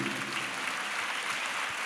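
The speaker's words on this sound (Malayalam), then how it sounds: "നല്ലൊരു കൈയടി ഈശോയ്ക്ക് കൊടുത്തേ" Steady clapping from a worshipping congregation offered in praise of Jesus, a dense, even wash of many hands sustained throughout with no voices over it.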